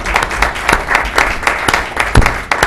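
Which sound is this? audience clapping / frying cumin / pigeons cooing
audience clapping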